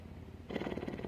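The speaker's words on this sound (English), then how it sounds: "she's full of purrs" A cat purring close up, a soft rhythmic rumble that swells louder partway through.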